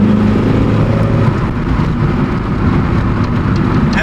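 Peugeot 205 Rallye engine pulling hard from inside the car, a steady loud low drone with the revs rising and holding, no talk over it.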